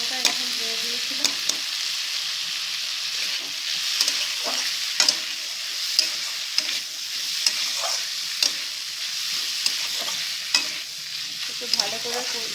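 A spoon stirs jackfruit curry with green chillies frying in a pan, scraping and clinking against the metal every second or so over a constant close sizzle.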